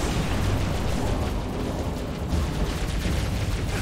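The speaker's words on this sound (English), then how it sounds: "Just threw a fucking grenade at myself. Grenade jump." A grenade blast in Halo: Reach on Legendary co-op roars as a loud, broad rumbling explosion that stays dense and sustained for several seconds with no voices over it.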